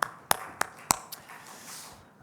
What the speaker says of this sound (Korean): 하나님께 더 큰 영광의 박수 올려드릴까요?